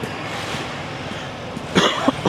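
A single short, harsh cough breaks out close by near the end, after a stretch of quiet room noise.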